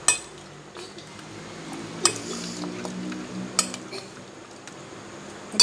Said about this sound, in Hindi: 1 कप दही ऐड करेंगे इसमें, और इनको अच्छी तरह मिक्स करेंगे।